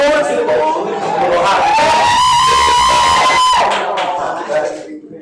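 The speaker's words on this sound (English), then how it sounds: "so that way y'all can kind of cheer for me" A lively audience at a poetry slam competition cheers and shouts with high whoops and a strong sustained roar for several seconds, close and loud, before it tapers off into scattered voices.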